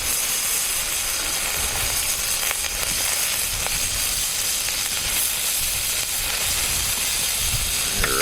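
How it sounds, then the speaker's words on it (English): Perch frying in pork fat over a campfire outdoors in the snow, a steady loud sizzle and hiss with faint crackles throughout, no voices. "Ready to fry our perch in some pork fat."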